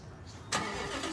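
A car with a newly fitted exhaust cranks and fires up about halfway through, rising from a quiet low rumble to a loud, steady, broadband engine roar up close.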